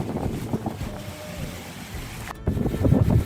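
Wind gusting around the Falkenstein castle ruin in Austria, a steady low buffeting roar across the microphone that swells louder toward the end.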